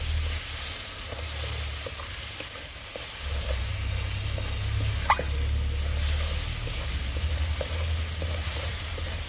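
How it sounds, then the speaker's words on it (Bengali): Spices sauté in a pan for prawn and egg khichuri, a constant low sizzle with sparse stirring ticks and one sharp clink midway; no speech. "ভালো করে কষিয়ে নেব"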